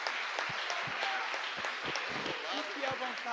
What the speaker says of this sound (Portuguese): Aplauda o Senhor Jesus, amém